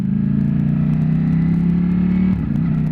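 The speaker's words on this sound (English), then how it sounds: "Just open the throttle and it just oozes away." A 2020 Ducati Streetfighter V4S motorcycle engine pulls hard under open throttle, a loud, close, steady V4 roar building in pitch before a brief dip near the end as the gear changes.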